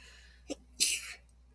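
A single sharp sneeze, preceded by a quick intake of breath, close and fairly loud against a quiet room.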